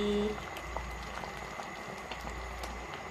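Soft, steady bubbling and popping from a pot of Kathiyawadi dal dhokli on the boil, with small irregular blips over a low continuous rumble.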